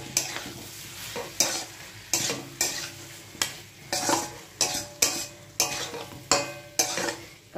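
Mutton curry with shahi garam masala stirred in a pan: steady, rhythmic scraping strokes of a spoon about once a second over a soft sizzle, close and fairly loud, with no talking.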